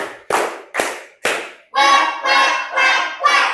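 Schoolchildren in a counted clapping game give four sharp unison claps at an even pace, then four chanted group shouts in rhythm.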